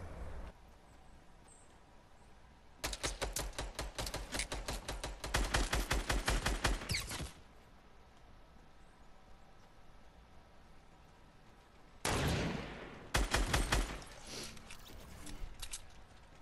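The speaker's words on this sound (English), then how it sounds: "someone's shooting" Rapid automatic gunfire in the Fortnite battle royale game, two loud sustained bursts of repeated shots separated by a quiet stretch, followed by a few more sharp bursts.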